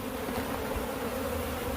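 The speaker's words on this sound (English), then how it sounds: "Just a bunch of bees that were protecting the queen." Swarm of bees buzzing around an underground nest in the ground, a steady dense drone with no speech, fairly close and continuous.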